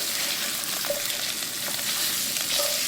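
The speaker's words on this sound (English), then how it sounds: "1/4 teaspoon of asafetida, hing and sliced potatoes. And stir them." Sliced potatoes with a pinch of asafetida frying in a pan, a steady bright sizzle throughout with a few soft scrapes of stirring near the middle and end, close and fairly loud, no voices.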